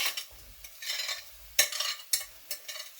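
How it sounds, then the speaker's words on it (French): Onions being stirred in a pan for a Spanish tortilla: close, intermittent scraping and stirring strokes, with a soft sizzle between the louder bursts. "Vous mettez les oignons et vous remuez."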